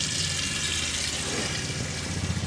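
An RV bathroom faucet runs steadily, water and pumped antifreeze gushing into the sink in a constant, close hiss with no pauses.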